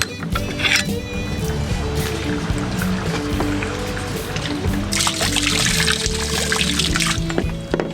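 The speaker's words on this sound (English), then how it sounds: "Filling our water tank up." Water pouring into a sailboat's water tank, a continuous gushing and trickling stream with some splashing, heard close up under light background noise.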